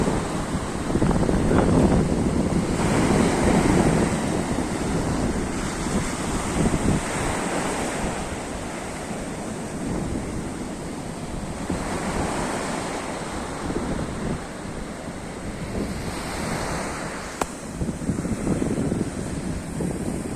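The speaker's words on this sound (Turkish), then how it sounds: "Hava baya şurada çok güzel dalga yapıyor arkadaşlar." Sea surf breaking on a windy shore during sea bass fishing at Sultanköy, a steady loud wash of waves with repeated surges and wind rumbling across the microphone, no voices.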